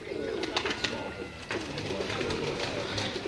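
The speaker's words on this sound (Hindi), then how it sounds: "उनके आपको प्रवासी कबूतरों का तमाम दोस्तों को शो करवा रहे हैं।" Migratory pigeons coo on a rooftop in Kasur, soft repeated calls close by over a steady outdoor background, with faint wingy flutters and no speech.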